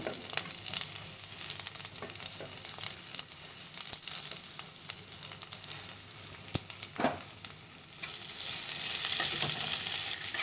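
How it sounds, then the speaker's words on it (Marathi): Finely chopped spring onion greens frying in a pan over medium flame for a spring onion bhaji, a steady close sizzle with occasional stirring clicks that grows a little louder toward the end. "आणि आता आपण पातीच्या कांद्याचा जो कांदा असतो मी तोच घेतला आहे बारीक चिरून, तो मी टाकत आहे."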